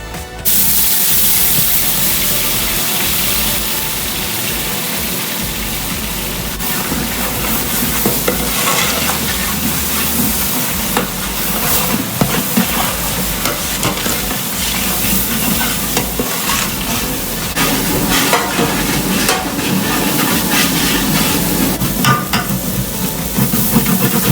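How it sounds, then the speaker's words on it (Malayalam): Crushed ginger, garlic and green chilli sauté in hot ghee for a Kerala-style beef biriyani, with a loud, steady sizzle and continuous stirring throughout. "അതിലേക്ക് നമുക്ക് ഇഞ്ചി, വെളുത്തുള്ളി, പച്ചമുളക് ഇത് ചതച്ച് വെച്ചത് ഇതിലിട്ട് വഴറ്റിയെടുക്കാം"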